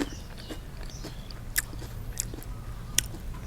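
Someone bites and chews crispy baked kiwi chips, giving sharp crunches and soft crackles spread over a few seconds, faint and close, with a couple of louder snaps standing out.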